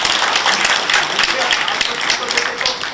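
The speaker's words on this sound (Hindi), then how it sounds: "मही के लिए जोरदार ताली बजाते।" Loud audience clapping at a yoga gathering, a dense burst of many hands clapping close and steady, with voices mixed in underneath.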